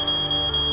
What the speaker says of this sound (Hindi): कुछ कोशिश के बाद घर का अलार्म तेज आवाज में बजने